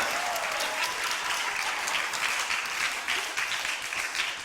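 A church congregation applauds steadily, a dense wash of many hands clapping together that holds evenly throughout with no voices over it.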